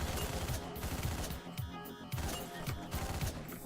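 Rapid gunfire from the top-down action game Hotline Miami, loud clustered shots and bursts of automatic fire with crashing impacts, alone without talk.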